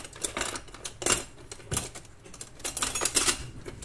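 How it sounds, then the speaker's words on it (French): Small scissors snip open a packet of Fairy lemon detergent. They make a series of sharp, close clicks and crinkles in an uneven rhythm, heard on its own. "Un petit ciseau et tu prends et tu fais clic, clic."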